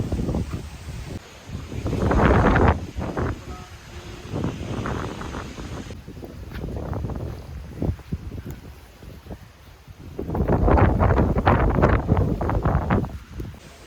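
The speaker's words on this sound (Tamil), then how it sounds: "காத்துரா காற்று, சரியான காற்று, ஃபுல்லாக ஏர் தான்." Strong wind gusts during an off-road trip at Attapadi batter the microphone in loud, rumbling bursts that rise and fall over several seconds.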